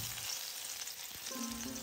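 Steady crackling sizzle of small puti fish (pool barb) frying in hot oil, close and continuous with a low background hum.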